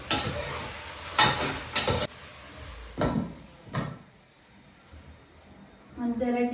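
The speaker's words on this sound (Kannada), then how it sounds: "ಒಂದೆರಡು ನಿಮಿಷ ಅದು ಎಣ್ಣೆಲೇ ಫ್ರೈ ಆಗಲಿ." Masala fries in hot oil for a biryani, a steady sizzle broken by loud stirring scrapes and utensil clanks, with brief voices at the end.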